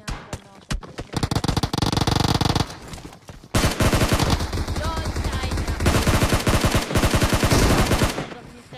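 Dense bursts of automatic gunfire from a Free Fire–style battle royale video game, loud rapid volleys with a short lull before sustained shooting resumes, no talk.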